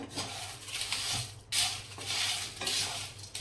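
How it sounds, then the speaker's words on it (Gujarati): Whole garam masala spices, including broken bay leaves, being stirred and roasted in a kadai over a low flame, with steady dry rustling and scraping in close repeated strokes and a light sizzle underneath. "આપણે આ મસાલા ધીમા તાપે જ આપણે શેકવાના છે"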